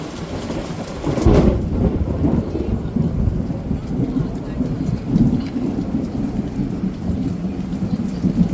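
Heavy rain pours down steadily in a village, and a sharp thunderclap breaks through early, followed by rolling rumbles beneath the constant downpour.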